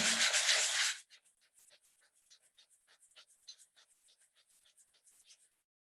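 Sandpaper of 220 grit rubs across wood end grain in quick, soft, rhythmic strokes, following a loud burst of noise at the start.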